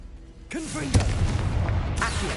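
A Confringo blasting spell bursts at close range during Hogwarts Legacy gameplay, a sudden booming impact that rolls into a dense, sustained crackling rumble lasting about two seconds, with faint game voices underneath.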